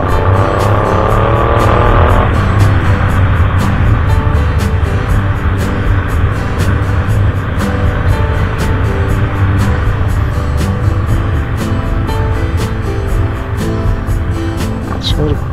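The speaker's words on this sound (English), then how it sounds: "Let's drive a little bit through Bloemfontein and see what's going on here." A car drives through Bloemfontein on a hot day, its engine and road noise making a loud, steady rumble right inside the cabin. A voice talks over it.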